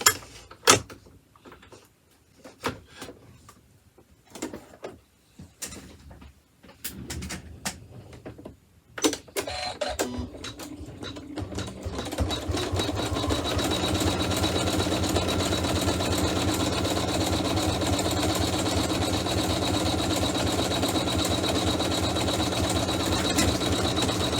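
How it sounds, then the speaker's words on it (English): An embroidery machine stitches a design on a pouch in the hoop; after some scattered clicks and handling knocks, a steady, close mechanical whirring and buzzing of stitching takes over and runs continuously. "The machine is doing that back stitch again"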